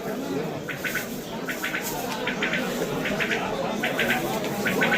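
Sparrows at a bird market in Samarkand, repeated clusters of short high chirps over a steady murmur of market noise and voices.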